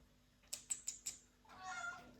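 After four quick clicks like keyboard taps, a house cat lets out a soft, drawn-out meow for attention, faint and close in a quiet room.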